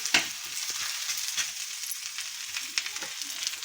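Bhajani thalipeeth sizzling in a pan as a little oil is drizzled on, a steady close crackle with a sharp spit at the start and scattered pops.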